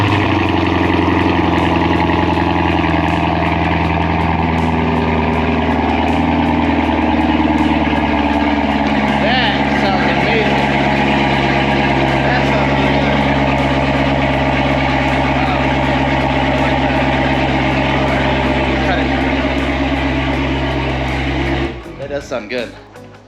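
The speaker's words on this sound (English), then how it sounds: "I also added an Army Tricks exhaust system" A Chevrolet C7 Corvette fitted with an Armytrix exhaust rumbles at a steady, loud idle close by for a long stretch, then goes quiet near the end.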